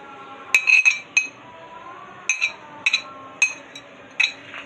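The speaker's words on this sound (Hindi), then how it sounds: "अब हम इन सबको मिक्स कर देंगे।" Chicken and cabbage filling mixed in a bowl: a spoon clinks sharply against the bowl in short irregular clusters, close and bright, with quiet gaps between strokes.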